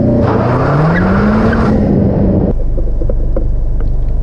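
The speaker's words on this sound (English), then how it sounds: "I just went and did a big old burnout in the school parking lot across from the fire station." A 2017 Honda Civic EX-T doing a weak burnout in a school parking lot, engine revving with a rising tone and tires squealing briefly before the revs drop to a steady rumble.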